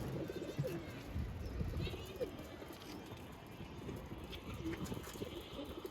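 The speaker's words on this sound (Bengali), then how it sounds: "এখন ঢুকায় দেখবো কয়টা কবুতর আসছে" Pigeons coo softly among ambient noise, with low, brief calls scattered over a few seconds and a faint chirp or two, heard from a moderate distance.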